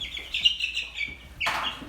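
A pet bird chirps close by in a quiet room, a thin sustained high call followed by a sharper, brighter chirp.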